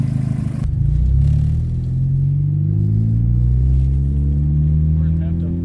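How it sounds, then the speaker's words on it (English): A turbocharged car engine under boost, just fixed after a timing issue and running rich, rumbles loudly from inside the car on a test drive, its pitch sweeping up through accelerating revs, close and continuous with someone talking. "we're gonna go take it for a drive and see how it runs now that we fixed the timing issue"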